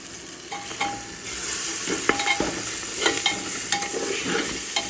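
Tomatoes sauté in a hot pan for a chicken dish, a steady sizzle broken by repeated scraping stirs of a spoon against the pan.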